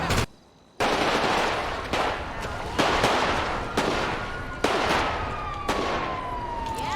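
Bursts of gunfire in a video game: a dense, loud stream of rapid shots, broken into several sharp volleys with brief gaps, one near-silent pause at the start.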